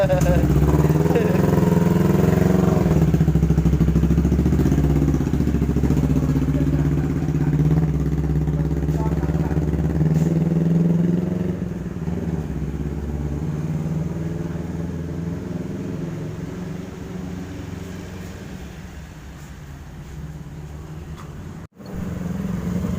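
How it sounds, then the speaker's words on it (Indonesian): A Kawasaki Ninja 250 cc motorcycle, recently rebuilt after engine trouble, runs with a steady humming engine drone that eases slightly partway through and stays fairly close. "Kita lagi nunggu Bang Iwannya lagi test drive untuk di Kawasaki Ninja-nya."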